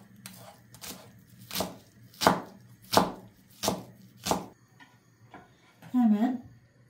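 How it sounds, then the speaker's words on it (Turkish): A knife chops steadily through onions on a cutting board, about seven firm, evenly spaced strikes close by, with a brief hum of room noise between. "Şimdi önce soğanlarımızı doğruyorum."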